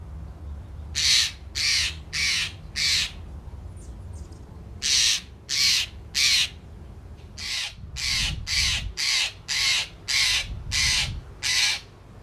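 A crow caws outdoors in repeated harsh bursts, grouped in short runs of three to seven calls with brief pauses, loud and fairly close over quiet background.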